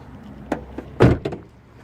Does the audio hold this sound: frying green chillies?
no